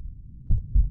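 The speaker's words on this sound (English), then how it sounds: "And our heartbeat like goes crazy over it." A heartbeat sound effect in the horror video game The Lost Fear: two deep, muffled thumps in quick succession, close and alone.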